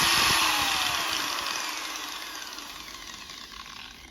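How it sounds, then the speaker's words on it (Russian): An adjustable-speed angle grinder switched on at its lowest speed setting, a loud continuous motor whine that slowly fades over a few seconds. "Болгарка у меня регулируемая. Вот поставлю на первую скорость. Вот, включаем. Ну вот, работает."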